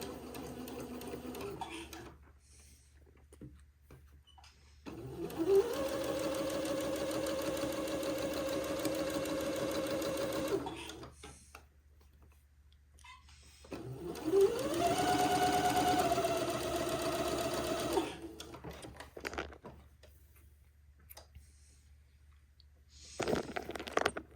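A sewing machine stitches a seam on a Christmas dress in two sustained runs of steady mechanical whirring, each about five seconds long, separated by quiet pauses with a short start at the end.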